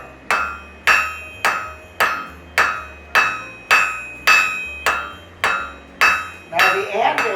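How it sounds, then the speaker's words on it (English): A blacksmith's hammer strikes hot metal on an anvil in a slow, even rhythm, about a dozen ringing blows one after another, loud and close. "What I'm going to do is pound it so that I can get this thinner."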